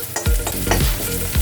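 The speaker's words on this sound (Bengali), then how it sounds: "রসুন আদাটা দিয়ে দিলাম। এবার এটা আস্তে আস্তে ভাজা হতে থাকবে।" Garlic and ginger fry steadily in a pan with a continuous near sizzle and several spatula scrapes at an uneven pace, heard alone without talk.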